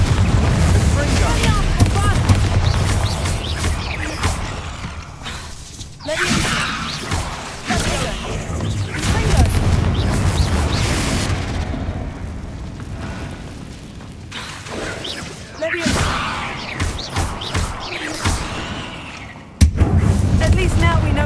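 Confringo fire spell blasts in Hogwarts Legacy bursting with booming explosive hits amid continuous game ambience, several sudden loud impacts spaced across the passage, with character speech over parts of it.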